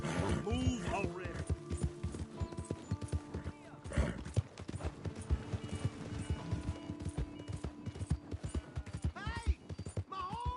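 Hooves clip-clop steadily from a horse in Red Dead Redemption 2, a busy rhythmic trot under game ambience with voices speaking over it.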